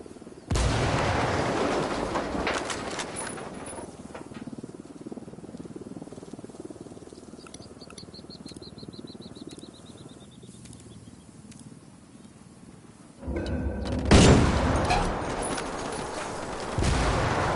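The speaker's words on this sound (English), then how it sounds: "Estamos bajo el fuego de armas enemigas y no sabemos cuánto son" Bursts of enemy gunfire in a console shooter game: a loud volley at the start, a stretch of quieter scattered shots with a thin descending whistle, then another heavy, close barrage near the end.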